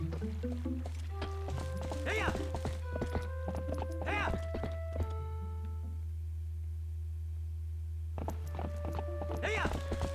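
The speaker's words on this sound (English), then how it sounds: "horse riding is a little tricky at times, especially with the Wii U gamepad" Hoofbeats clip-clop steadily from a ridden horse in Zelda: Twilight Princess, an occasional whinny rising over the in-game music.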